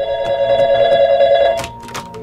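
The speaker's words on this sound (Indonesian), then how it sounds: "Tapi dia kembali lagi ke dalam ketika ada telepon yang berdering." A telephone rings loudly and close indoors in a horror film scene, a steady electronic ring that cuts off after about a second and a half, followed by a few brief knocks and rustles.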